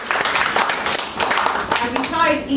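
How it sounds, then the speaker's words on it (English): Audience applause for a teacher at an event, a dense wash of many hands clapping that fills the space, with a voice starting to speak over it near the end. "So I think she deserves a big round of applause."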